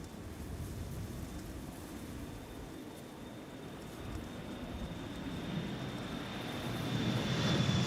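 A KLM Embraer 175 jet takes off at Amsterdam Schiphol, a steady engine roar that swells toward the end, heard alone without voices.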